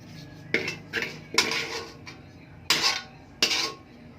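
Pancit canton noodles go into a cooking pan, heard as several sharp metallic clatters and scrapes of utensils against the pan in uneven bursts, close and fairly loud with no talking.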